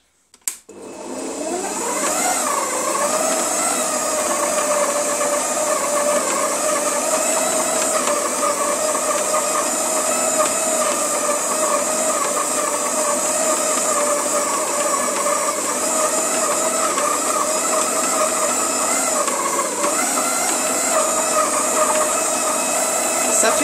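A stand mixer churns bread dough enriched with milk and butter, a loud steady motor whine with a rising start, running continuously and close with a slight dip in pitch near the end.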